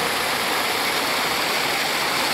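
Water rushes steadily through a concrete diversion channel at the Antônio Monteiro waterfall near Pocinhos do Rio, a loud, continuous broadband roar with no talking.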